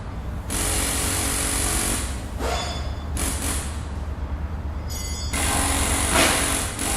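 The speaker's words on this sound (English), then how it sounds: "I'm gonna use an electric ratchet here to snug these down" Electric ratchet snugging down bolts on the lift gate motor of a 2007 Buick Terraza handicap lift, heard in three steady whirring bursts with brief pauses between, close up and fairly loud.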